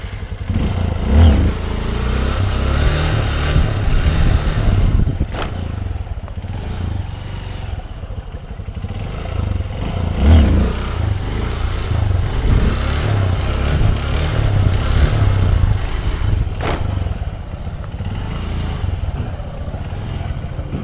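Motorcycle engine held at a steady low rumble throughout a slow wheelie on a tall bike, with gentle throttle swells and a few brief sharper bursts, close and continuous with no talk.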